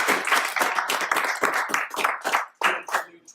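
A sparse lunch-and-learn audience at an AI talk claps in distinct, separate hand claps, close and fairly loud, for a few seconds.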